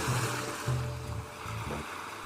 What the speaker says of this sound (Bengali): এটা ছিল নিউ দীঘার সি বিচ।